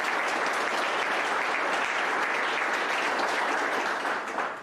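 An audience claps at the Montgomery County State of the County address. The dense, continuous applause trails off slightly in the final moment.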